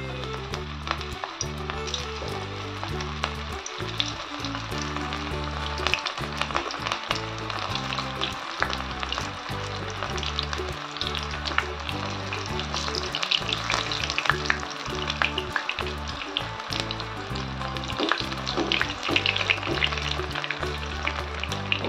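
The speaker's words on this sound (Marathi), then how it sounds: "बघा आपलं तेल छान तापलंय। टाकूया आपण आपले पकोडे।" Bread ball pakodas sizzle and crackle steadily in hot oil, a dense, continuous frying hiss with faint stirring, close up and without talk.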